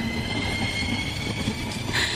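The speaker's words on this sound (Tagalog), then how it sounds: "Nandito na tayo sa next station. Hihinto na ang tren." A train pulls into a station and slows to a stop, with a continuous rumble of rail cars and high, thin wheel squeals that swell near the end.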